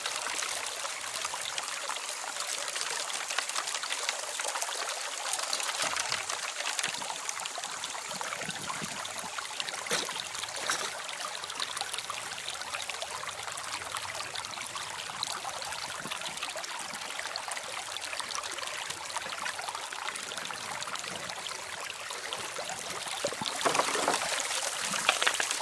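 Water runs steadily through a sluice box outdoors, a continuous broadband rushing and trickling flow with no voices, holding an even level for the whole stretch and swelling slightly louder near the end.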